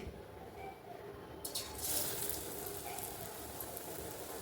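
Battered brinjal slices go into hot oil and set off a rushing, bubbling hiss that swells suddenly partway through and then settles into a steady close sizzle.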